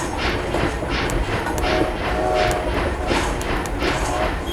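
A train rolling along rails in the video game Trains And Railroads: a continuous rumbling drone with a steady rhythmic clickety-clack of wheels over rail joints, loud and close throughout.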